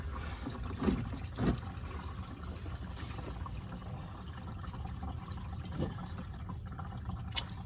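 Engine oil from a Silverado 5.3L V8 trickles and drips into an overflowing oil pan, a soft continuous liquid gurgle with a few louder splashes and drips, close by.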